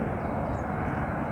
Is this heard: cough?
no